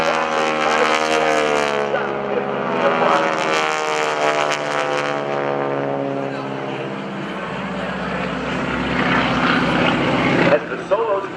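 GEICO Skytypers propeller aircraft, a pair of solo planes diving head-to-head at an air show, a loud droning engine whine with a shifting pitch that fades and swells while an announcer talks over it.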